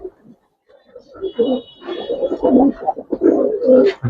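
Pigeons at a fancy-colored pigeon farm give several close, throaty coos in uneven bursts.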